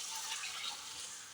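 Water poured into a mixer jar while making a pathrode masala, a faint, brief, soft trickle with no talking.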